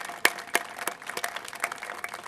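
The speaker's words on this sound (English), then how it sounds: "give all around just a round of applause to everyone who received anything" Audience applause for award recipients at a charity event, a moderate crowd clapping steadily with a few louder individual claps standing out, fairly even in level and without speech.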